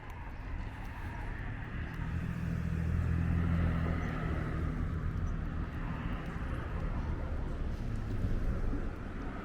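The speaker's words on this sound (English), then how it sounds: "There's always a lot of traffic on this avenue." Steady traffic rolls along Cropsey Avenue, a residential street in Brooklyn, as a continuous low rumble of passing vehicles with some wind buffeting, swelling midway as heavier vehicles go by.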